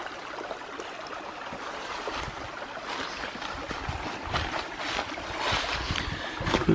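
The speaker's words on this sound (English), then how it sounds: "And here we come up to the main branch of the creek" The main branch of a creek flows through a hemlock forest in Bankhead National Forest, Alabama, with a continuous close burble and splashing of water whose level slowly builds. No one speaks.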